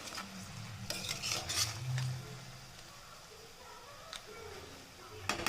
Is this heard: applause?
no